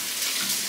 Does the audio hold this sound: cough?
no